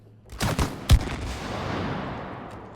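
Gunfire in the video game It Takes Two, a few quick shots and then one sharper blast that rings out in a long fading tail, with no voices over it.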